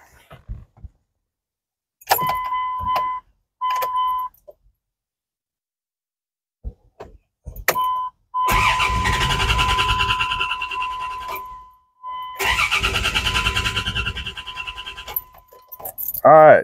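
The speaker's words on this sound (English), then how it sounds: "a crank no start issue" A 2002 Dodge Dakota with a 3.9-liter engine cranks without catching in two sustained whirring bursts of a few seconds each. A steady warning chime and light key jingling come before them.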